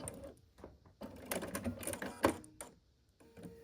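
A home sewing machine stitches two quilt block pieces together in a short run, a light mechanical whir with clicking bursts near and moderately loud, with quieter pauses before and after.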